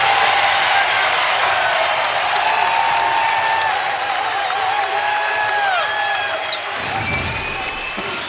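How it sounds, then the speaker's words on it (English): Basketball arena crowd rising to its feet and cheering at a college game between VCU and George Washington, a loud sustained roar with whistles and shouts over squeaking sneakers, while a commentator talks over it. "Here comes the crowd, finally rising to their feet for the first time here today."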